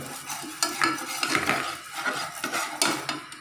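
A spoon scrapes and stirs roasted gram flour with sugar in a pan, making repeated rhythmic scraping strokes with light clinks against the metal and a soft sizzle underneath.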